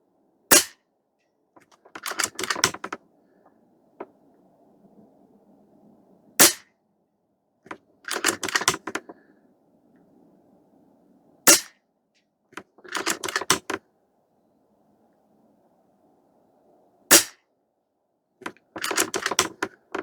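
Air Venturi Avenge-X .22 caliber airgun fires a string of sharp, crisp shots, each one a quick snapping crack, spaced irregularly over about twenty seconds. Faint clicks and soft handling noise sit between shots, with no talking.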